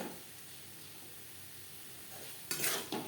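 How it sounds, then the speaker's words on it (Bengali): Prawns fry lightly in spice masala for Bengali potol chingri, a steady soft sizzle running quietly before a louder burst of stirring and spattering near the end. "চিংড়ি মাছ হালকা করে ভেজে নেব"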